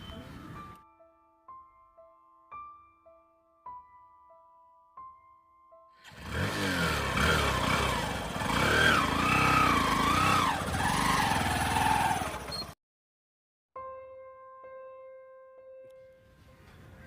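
A motorbike in a Hindi short film starts and pulls away, a loud engine roar rising and revving for several seconds between stretches of background music, then cutting off.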